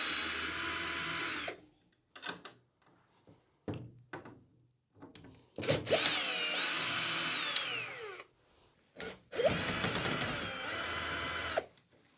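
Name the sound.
unscrewing screws on Ikea SUNDVIK bed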